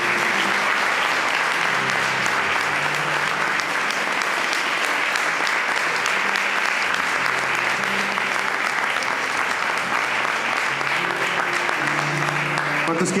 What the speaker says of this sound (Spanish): Demos un aplauso al Rey Jesús.